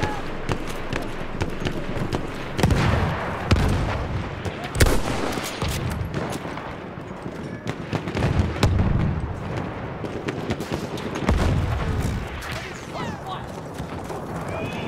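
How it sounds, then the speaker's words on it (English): Battlefield 1 battle ambience with scattered gunshots and heavy booms mixed among horse whinnies and hoofbeats, steady dense noise throughout while people talk over it. "Someone's shooting me?"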